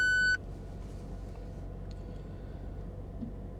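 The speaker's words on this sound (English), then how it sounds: "we could hear the charger stop" A single short electronic beep from a 40 kW EV charger stopping its session at the start, then a low steady hum of machinery and faint background noise.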